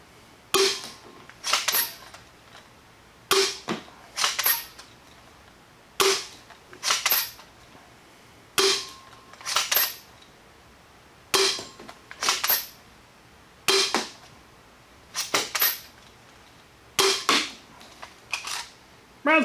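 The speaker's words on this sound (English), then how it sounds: "I'm gonna fire their darts first and see how they work" A KongLie quick-disassembly foam dart blaster firing darts, heard as sharp, loud snapping shots in evenly spaced pairs repeating steadily about every two and a half seconds, close up and with no talk.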